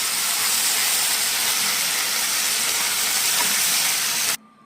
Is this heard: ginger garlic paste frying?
yes